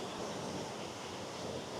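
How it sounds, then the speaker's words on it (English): A waterfall, a favourite spot reached by a steep path, gives a steady, dense rushing roar that stays even and unbroken throughout, with no voices over it. "So this is one of my favourite waterfalls."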